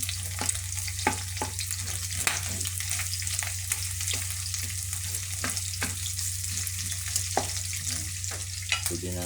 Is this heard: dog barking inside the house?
no